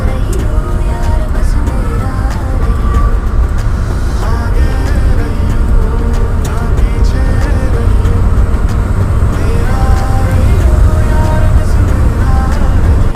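Road traffic backed up at the Khed Shivapur toll plaza, a loud continuous rumble of engines and passing vehicles close by, with occasional horn-like tones.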